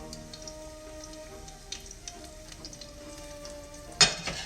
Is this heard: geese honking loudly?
no